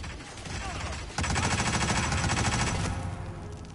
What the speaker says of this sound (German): Wo ist jetzt mein Maschinengewehr?